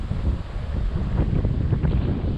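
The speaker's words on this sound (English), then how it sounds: "Sorry about the wind, guys." Steady wind buffeting an outdoor microphone, a continuous low roar with gusty rumble, loud and close, while a Traxxas Slash RC drag car is being run nearby.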